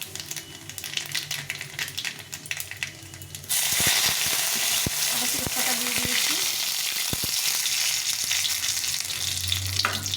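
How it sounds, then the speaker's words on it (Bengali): Dry red chillies and nigella seeds temper in hot oil, a softer sizzle jumping to a loud, dense crackle a few seconds in, with sharp spattering pops and clicks scattered through it. "আমি একটু শুক লঙ্কা আর কালো জিরে ফোড়ন দিয়ে শাকটা রান্না করব"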